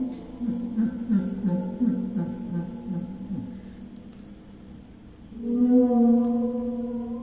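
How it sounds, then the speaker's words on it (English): A waterphone stroked with a bamboo superball mallet, giving sustained eerie whale-like moans and tones that swell and waver, with a louder resonant swell near the end. "So, yeah, that's the waterphone."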